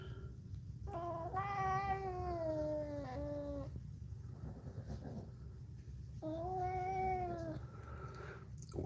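A cat meows repeatedly while being fed, drawn-out, loud, close-up calls in two long bursts with a pause between, over a low steady background hum and no talk.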